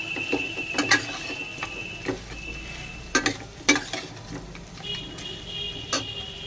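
A spoon stirs a salted vegetable filling in a pan for a green moong dosa, giving scattered scraping clicks and knocks over a faint low sizzle, with quiet gaps between strokes.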